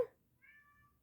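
An angry cat gives a single short, clear meow indoors, preceded by a brief sharp knock, in an otherwise quiet room.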